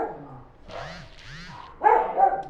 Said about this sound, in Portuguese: aí é o dia inteiro essa latição de cachorro, tá? Ainda junta mais com a minha que tá lá atrás e veio latir aqui na frente